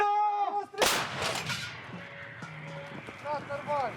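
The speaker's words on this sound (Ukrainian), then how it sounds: "Гармата!" A single loud blast from a Msta-B howitzer booms up close, its rumble trailing off, with a person talking before and after it.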